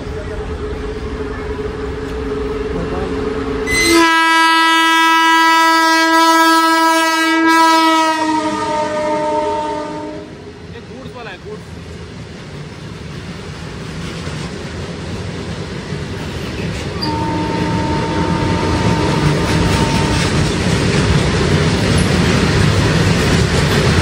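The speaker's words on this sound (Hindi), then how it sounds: "ट्रेन क्रॉस हो रहा है गांव पता नहीं कौन सा है छोटा सा गांव है" An Indian passenger train passes a small village, opening with a long, loud horn blast, then fading to rolling wheel rumble and clatter of the carriages. A second, softer horn sounds later over the steady rail noise.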